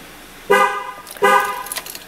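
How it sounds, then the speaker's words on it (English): GM vehicle horn blowing twice in short, loud honks during a tire pressure sensor relearn, each lasting about half a second. "you're gonna press the lock and the unlock button at the same time until the horn blows"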